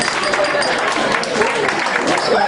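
Crowd applause at a wedding celebration for a band, a dense, steady wash of clapping and cheering lasting throughout, with voices mixed into the noise.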